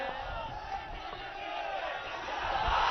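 Dense crowd din at an Akhilesh Yadav election rally in Sant Kabir Nagar, a steady roar of many voices with shouts rising toward the end.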